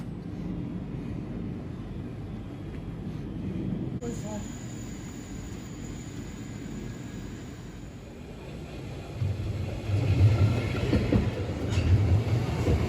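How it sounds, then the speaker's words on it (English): Steady low rumble of a moving Swiss mountain train near Zermatt with rattling carriages, growing louder toward the end; a faint voice may be present underneath. "Our train."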